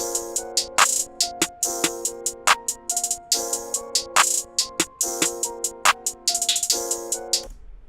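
A steady electronic drum beat with sharp, evenly spaced clap hits and bright open hi-hats over a sustained synth chord, ending abruptly.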